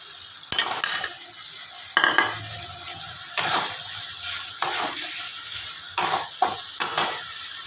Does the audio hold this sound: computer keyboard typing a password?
no